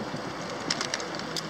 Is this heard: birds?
yes